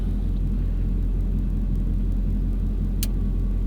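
Steady low road rumble from the interior of a car being driven on a test drive with a newly installed 30-inch LED light bar, a continuous engine and tyre drone with one brief click near the end.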